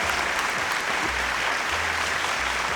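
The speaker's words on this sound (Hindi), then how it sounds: "एक बार जोरदार तालियों के साथ स्वागत तो बनता है" Steady applause from an awards-show crowd, dense and continuous clapping throughout with no pauses.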